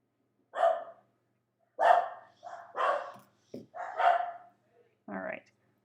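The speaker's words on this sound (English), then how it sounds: "my dogs are barking at something" Pet dogs in a home bark in a series of loud, separate woofs spread over several seconds, a fairly close volley with brief pauses between barks.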